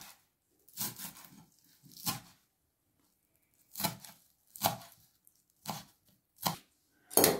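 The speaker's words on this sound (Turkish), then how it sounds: "Maydanozlarımızı da çok küçük de doğramamıza gerek yok." A knife chopping fresh parsley for stuffed pickled vegetables, landing in separate crisp, crunchy strokes, singly and in small clusters with quiet gaps between them, close and fairly soft.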